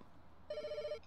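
A telephone rings in the pet-hotel management game Pets Hotel, one clear electronic ring lasting about half a second over a quiet background, with a brief softer trailing tone after it.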